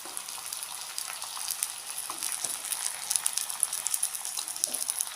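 About three quarters of a kilo of chicken frying with sautéed masala in a pan for Kerala-style roasted-coconut chicken curry, a continuous bright sizzle with small crackles and stirring scrapes, moderately close and steady.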